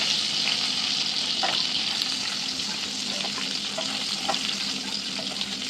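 Digha prawns fry in hot oil in a pan with a loud, continuous sizzle. Faint clicks and scrapes of stirring come through now and then.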